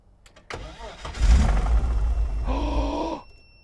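BMW E30 engine cranking on a start attempt, a short loud rumbling grind of the starter lasting a couple of seconds, with a tonal whine toward the end before it dies away.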